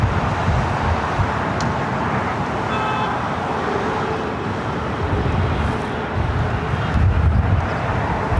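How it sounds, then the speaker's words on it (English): An Airbus A320neo airliner at LAX gives a continuous loud, rumbling engine roar blended with distant traffic noise, holding fairly even throughout with no voices. "This time an A320 Neo."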